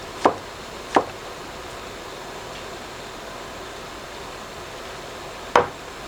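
A knife cuts food into thin slices on a board in three sharp, isolated chops, two close together and one after a long pause, over a quiet room hum.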